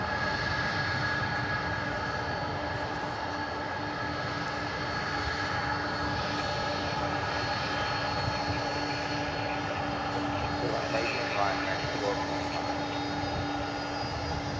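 A McDonnell Douglas MD-11 airliner at DFW Airport, a continuous, fairly distant engine drone with steady whining tones running through it for the whole stretch, with no voices.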